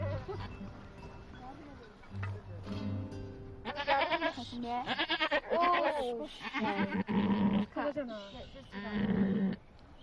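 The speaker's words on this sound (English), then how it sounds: "One of the goats has gone into labor." A goat in labor bleats loudly and repeatedly in strained, wavering cries, with people talking quietly in the background.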